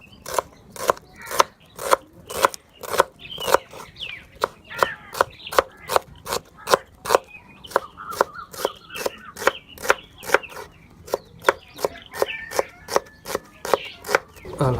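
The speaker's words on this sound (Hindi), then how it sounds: "अभी प्याज की कटाई कर लेंगे।" Knife chopping onions on a board while making chicken pulao: crisp, evenly spaced chops, about two or three each second, close and steady for the whole stretch with no other sound.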